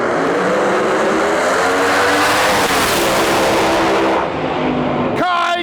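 Heads-up no-prep drag race cars launch at the Snowbird Outlaw Nationals, a loud, roaring engine blast that sweeps away down the track, then fades before a brief sharp burst at the end.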